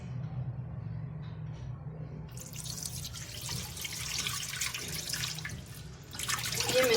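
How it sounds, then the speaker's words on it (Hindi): Leftover water from making desi ghee splashes as it is poured away into a sink, a steady running, dripping wash that swells louder toward the end, with faint talk in the background. "ये बेकार पानी है इसका, ये मैं इसे ज़ाया कर देती हूँ"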